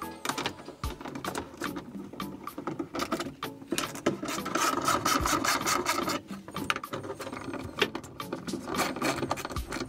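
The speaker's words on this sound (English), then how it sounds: "now we are using a paddle bit to countersink these bolts so the heads sit flush with the board" Paddle bit countersinking bolt holes into a wooden board during a van wall and ceiling framing build, a continuous rough grinding, rasping drone with uneven texture, close and steady throughout with no talking.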